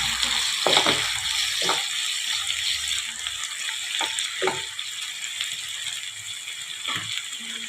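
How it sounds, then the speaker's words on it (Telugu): Cluster beans frying in oil give a steady hissing sizzle with intermittent scraping and stirring clicks from a utensil against the pan. "ఒక 10 మినిట్స్ నూనెలో బగరిచ్చేస్తే సరిపోద్దండి"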